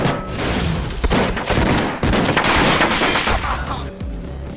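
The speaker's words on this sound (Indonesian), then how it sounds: "Setelah itu terjadilah baku tembak antara kaum muda dan kaum tua." Rapid, dense bursts of gunfire in a shootout between young and old gangsters in an action film, loud and continuous with heavy booms and voices mixed in.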